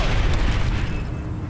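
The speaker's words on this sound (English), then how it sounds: "Let's just shoot some grenades." Grenade explosions in the video game Aliens: Dark Descent, a loud, deep rumbling boom that rolls out over a second and a half and fades slightly.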